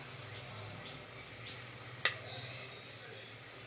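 Whole cloves, cinnamon sticks, star anise and cardamom pods crackle in hot oil, a steady low sizzle with one sharp pop near the middle, no voices.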